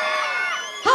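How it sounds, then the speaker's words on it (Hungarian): Crowd screaming and cheering at an outdoor festival stage during a May Day fair, a sustained loud roar of many voices that swells near the end. "Még egy sikítás?"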